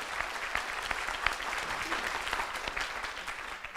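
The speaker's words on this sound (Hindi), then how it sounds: "उनके लिए एक बार ताली बजना चाहिए" Audience at a business meeting breaking into applause, a steady patter of many hands clapping at moderate distance, fairly quiet and alone.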